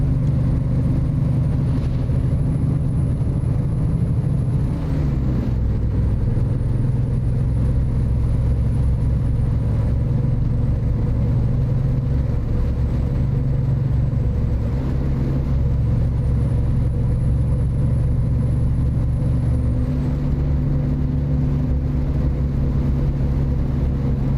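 Simulated truck engine in American Truck Simulator droning steadily at high RPM while cruising in 8 high near 70 mph, a loud continuous rumble with slight pitch shifts and a thin high whine coming and going.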